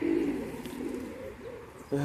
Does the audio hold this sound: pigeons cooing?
yes